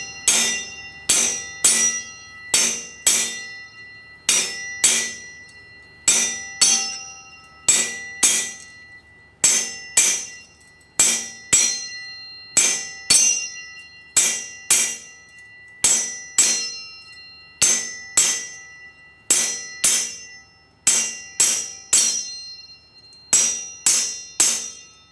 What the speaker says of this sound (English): I'm gonna try a couple of good taps with the ball peen and see if it'll move